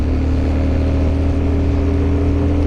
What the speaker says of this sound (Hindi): गाड़ी को बहुत मेहनत करना पड़ रहा है इस चढ़ाई पर चढ़ने के लिए।